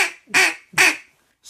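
A duck call blown to imitate a hen mallard's greeting call gives two loud, sharp quacks about half a second apart, close up, with the start of a third at the end.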